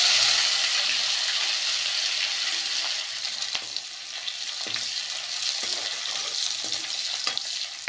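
A tempering of cumin, fenugreek, green chili and onion sizzles steadily in hot oil. Sharp clicks of a spoon stirring against the pan sound through the constant hiss.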